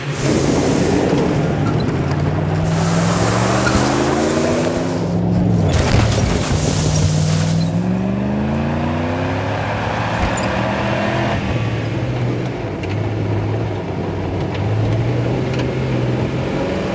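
A motor vehicle pulls away and drives on, its engine droning loud and close with rising and falling pitch as it shifts and accelerates, steady road noise underneath and no voices.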